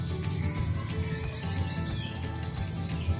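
Captive white-rumped shama (murai batu) songbird singing, with bright chirps and whistled phrases over a steady low hum and background noise, fairly faint throughout.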